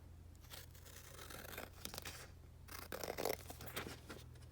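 Paper being cut with scissors during a card-making embellishment session: a few crisp snips and rustling scrapes over a low steady hum, close but fairly quiet, with no talking.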